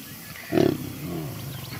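Lion roaring within a pride, a single deep, close rumbling roar that swells quickly and trails off into lower grunting over under two seconds, with no talk.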